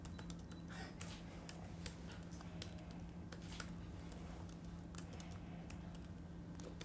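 Rapid clicking of computer keyboard keys in a steady run of uneven taps, close and clear over a low constant hum, with no voices.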